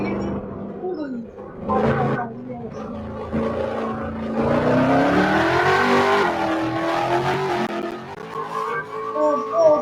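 A Ferrari engine revs and roars loudly in a sustained, rising and falling drone, the pitch climbing and settling, while people talk over it.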